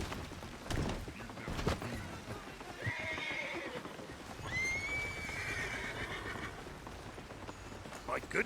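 A hitched horse in a Western roleplay video game gives two clear whinnies amid clip-clopping hoof thuds, with a voice talking faintly in the background.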